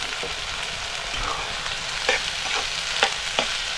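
Diced onion for egg bhurji frying in a pan in a home kitchen, a steady close sizzle broken by a few sharp scrapes and clinks of a spatula as it is stirred, with no voices.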